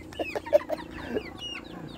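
A chicken clucks in short, repeated bursts nearby, with a few chirpy calls over quiet outdoor background.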